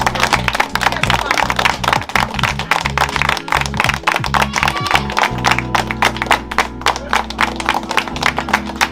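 An audience claps steadily for the Smart family at a charity donation gathering in Trench Town, the dense applause continuing loud and unbroken throughout with a low rhythmic hum beneath.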